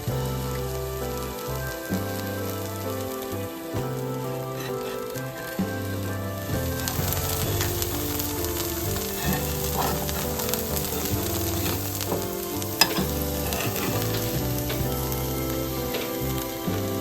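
Dosa batter fries in oil on a hot pan, giving a steady, close crackling sizzle that holds evenly throughout with no voices.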